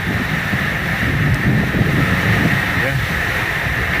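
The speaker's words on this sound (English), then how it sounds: "the boat sails slowly at night" Sailboat moving slowly at night across a calm Pacific Ocean crossing, with steady wind buffeting the microphone and a soft wash of water beneath, continuous and fairly close, with no talk.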